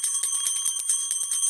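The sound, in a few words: decorative metal bell ringing, like a temple bell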